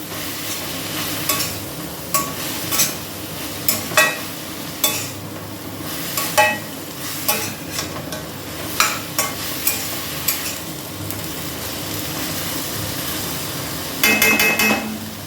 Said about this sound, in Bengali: আর পরিমাণ মতো লবণ দিয়ে দিলাম একটু নেড়ে ছেড়ে দেবো